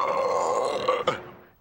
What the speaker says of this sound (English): How disgusting is this burp?